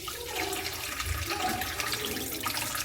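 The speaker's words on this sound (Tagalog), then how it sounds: "You can already drain out the water." Hot water is drained off soaked onions in a home kitchen, a continuous soft rushing and splashing pour that stays fairly quiet and steady with no voices.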